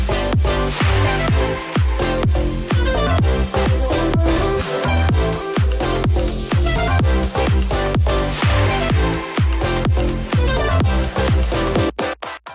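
Electronic dance track released around April 2021 plays loud and continuous, with a steady kick-driven beat, bright synth layers and dense full-range production, cutting off abruptly at the end.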